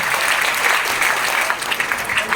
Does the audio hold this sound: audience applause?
yes